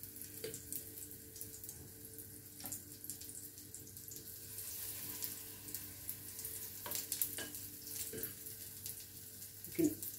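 Banana fritters fry in hot oil in a pan with a soft, steady sizzle and crackle throughout, broken by occasional faint clinks and a louder clatter near the end.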